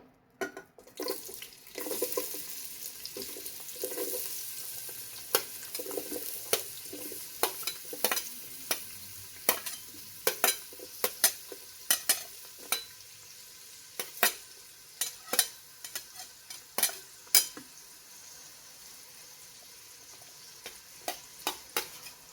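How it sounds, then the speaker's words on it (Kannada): Onions being fried in oil with mustard seeds for a mushroom biryani, giving a steady sizzle with frequent sharp crackles and pops of stirring and spattering close by, with no talk. "ಈಗ ಸಾಸಿವೆ ಇದಾಗಿದೆ, ಫ್ರೈ ಆಗಿದೆ. ಆನಿಯನ್ಸ್ ಹಾಕ್ಕೊಳ್ತಾ ಇದ್ದೀನಿ."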